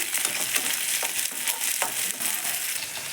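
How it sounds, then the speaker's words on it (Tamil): Garlic, small onions, curry leaves and three dried red chillies sauté in hot oil for a Tamil okra tamarind curry, giving a steady, close, dense sizzle with soft stirring scrapes throughout and no talking. "இப்போ நறுக்கி வச்சுருக்க பூண்டு, சின்ன வெங்காயம், கருவேப்பிலை, 3 வரமிளகாய் சேர்த்துக்கலாங்க. இப்போ இதை நல்லா வதக்கிக்கலாம்."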